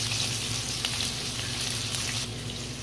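Spice paste, chopped onion and green chilies sizzle loudly in hot oil in a pan, a close, continuous frying hiss with occasional scraping as the mixture is stirred.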